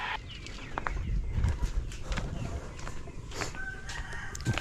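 Chickens 145 days old crow and cluck on a farm at moderate distance, with a rooster call and scattered clucks over steady outdoor background noise.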